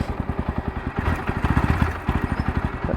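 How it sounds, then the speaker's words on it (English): A Bajaj Pulser 125 motorcycle engine idles nearby with a steady, rapid thumping beat that stays even and loud throughout, running rough because the tank is low on fuel or on reserve. "This is how the motorcycle sounds."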